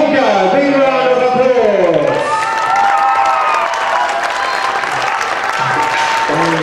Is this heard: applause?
yes